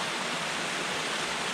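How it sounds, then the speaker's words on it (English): A small creek waterfall near the Toccoa swinging bridge gives a continuous, close rushing hiss of falling water, even and unbroken throughout. "we got the nice little creek waterfall here."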